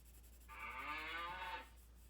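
A single cow moo, a drawn-out lowing call lasting about a second, clear and alone over faint background hiss.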